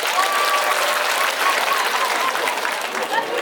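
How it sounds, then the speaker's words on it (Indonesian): Audience applause for a pastor at a sermon gathering in an Islamic boarding school, a dense, steady clapping from a sizable crowd that holds loud and even throughout. "Tepuk tangan untuk Pendeta Gilbert Lumindo."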